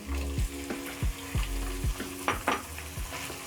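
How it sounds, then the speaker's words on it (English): Beef hits a hot pan of browning garlic and ginger and sizzles loudly, broken by regular scraping stir strokes roughly every half second, close up with no voices. "Just when the garlic and ginger are browning a little bit, I'm going to add in my meat."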